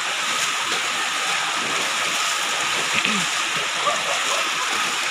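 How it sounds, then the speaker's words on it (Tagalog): Floodwater from an overflowing creek rushing across a road in Barangay San Pedro, Duero, Bohol, Philippines, a steady broadband roar of moving water close by, continuous and unbroken throughout. "Ang tubig sa sapa niapaw na."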